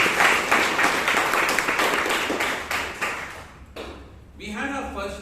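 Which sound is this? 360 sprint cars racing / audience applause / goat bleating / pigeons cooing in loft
audience applause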